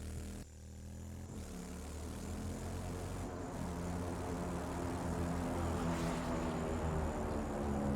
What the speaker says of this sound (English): Okay, I hear a plane,